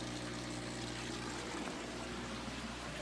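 Water pours steadily through the pumps and plumbing of an aquarium system during a water change, making a loud continuous rush over a low pump hum with no talking.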